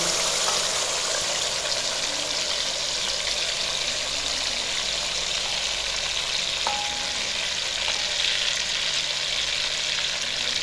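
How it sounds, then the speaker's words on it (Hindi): Minced meat (keema) frying in hot ghee in a wok, a loud continuous sizzle and crackle holding steady throughout, with no voice over it. "घी अच्छे से गर्म हो जाए तो जो कीमा हमने 10 मिनट के लिए रेस्ट के लिए रखा था वो सारा इसके अंदर ऐड कर देंगे"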